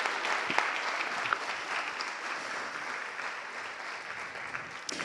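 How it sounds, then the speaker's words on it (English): An audience at an awards session applauds the recipients, a steady, dense roar of many hands clapping without a break for several seconds, fairly close and full. "please do give them a massive round of applause"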